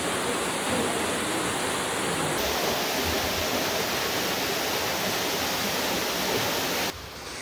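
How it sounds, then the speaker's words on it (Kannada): A waterfall pours steadily through forest in Meghalaya, a dense, even rush of falling water heard close and loud with no voices, its brightest hiss fading near the end. "ಫಾರೆಸ್ಟ್ಗಳ ಮಧ್ಯೆ ನೀರು ಬೀಳ್ತಾ ಇರೋದು"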